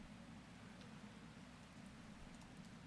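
Rain falls steadily and softly in Strange Horticulture, a continuous even hiss with a low rumbling undertone, faint and unbroken throughout.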